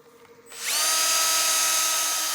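A power drill running at about 600 RPM sands with 320 grit paper to smooth a CA finish, spinning up after a brief quiet start into a loud, steady whine that holds to the end.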